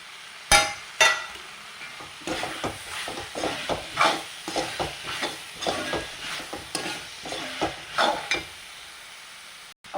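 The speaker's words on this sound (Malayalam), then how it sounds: "ഇനി നമ്മൾ 2 തക്കാളി ചതുരൻ അരിഞ്ഞത് ഇട്ട് കൊടുക്കുക." Two chopped tomatoes tipped into a curry pan sizzle and are stirred, with bursts of frying hiss and rhythmic scraping strokes of a spoon, fairly close and moderate in level.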